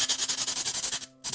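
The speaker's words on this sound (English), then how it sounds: "with the nail sander we just do like that" Nail sander rounding the edges of wooden bedroom furniture parts, a short close rhythmic rubbing with quick regular strokes that stops briefly near the end.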